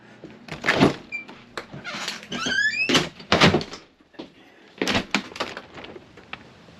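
A house's front door opens and shuts as a man heads out for a run: a close sequence of handle clicks, a brief creak and solid thuds, with short pauses between.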